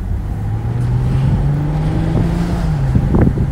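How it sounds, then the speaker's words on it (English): A 2006 Ford Mustang drives on an open road, a loud, close, steady engine drone that rises gradually in pitch as it accelerates, with brief wind buffeting near the end. "what good is a Mustang if we can't open her up on the wide open road?"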